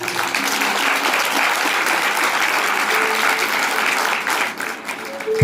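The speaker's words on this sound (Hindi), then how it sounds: "ताली पर जोर दो।" A congregation at a Christian worship service applauds steadily for several seconds, the clapping thick and continuous, then thins out toward the end.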